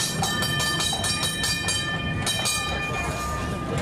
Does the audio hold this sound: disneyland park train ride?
yes